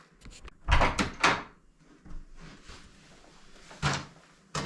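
An old wooden door, about 130 years old and hung on mismatched hinges, is swung and shut in a few quick knocks and thumps, followed by softer rattles of the latch and a final bump, close by in a quiet room.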